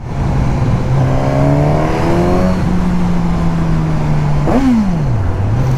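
A 2022 Suzuki GSX-S1000 naked motorcycle engine revs up through the gears, its loud, close whine rising in pitch, then dropping sharply at a shift before climbing again, with steady wind rush throughout.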